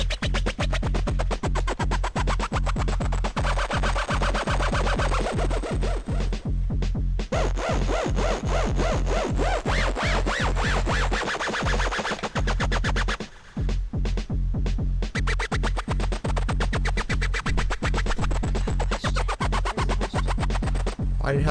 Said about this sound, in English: There are so many sounds you can make with the Blipblox.